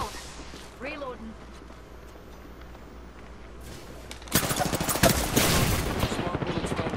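Rapid gunfire in the video game Apex Legends, dense loud bursts in the second half following a quieter stretch with faint in-game sounds.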